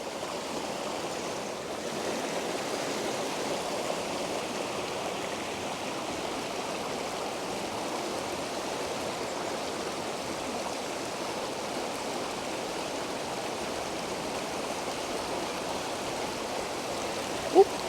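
A small Oregon stream flows steadily for the whole stretch, a dense, even rushing and burbling of water close by, with no talk over it.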